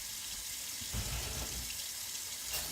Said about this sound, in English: I'm gonna run some water here. Hope it's not too loud until I get some hot water because we want to get the jar warm